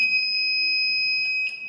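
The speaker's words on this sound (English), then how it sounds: "It works like an alarm" A push-button alarm buzzer on a student-built war robot sounds a steady, loud electronic tone that holds unbroken for nearly two seconds.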